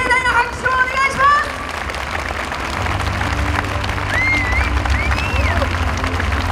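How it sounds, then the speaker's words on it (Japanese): Crowd clapping for the finalists at the awards ceremony of the Nippon Domannaka festival contest, a steady wash of applause from a large outdoor audience, with an announcer speaking over the start. "ファイナリストの皆さんにもう一度盛大な拍手をお願いします"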